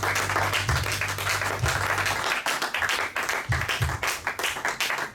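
A church congregation claps and cheers loudly in praise during worship, a dense continuous roar of applause with rhythmic pulses and low musical tones underneath.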